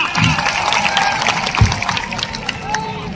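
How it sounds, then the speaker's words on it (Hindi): An audience at a tribal community gathering in Dungarpur breaks into applause, a busy crackle of many hands mixed with crowd babble and voices, fairly loud and continuous. "जोरदार तालियां।"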